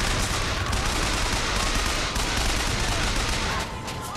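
Rapid bursts of submachine gun fire fill a chaotic Bioshock Infinite firefight aboard a zeppelin, loud and nearly continuous with dense overlapping shots and explosions.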